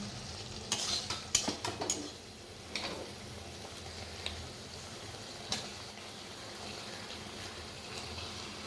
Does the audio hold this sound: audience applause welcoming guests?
no